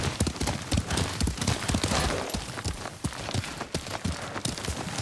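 Horse hooves gallop in a video game, a fast, loud, even clip-clop that pounds on throughout, with a faint voice briefly in the mix.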